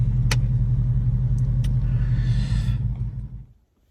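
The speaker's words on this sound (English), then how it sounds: "So now I'm gonna park my truck over here" A Ram Daytona pickup truck, which has a misfire, idles with a steady, loud low-pitched engine rumble as it is parked, then the engine shuts off and the sound fades quickly to silence.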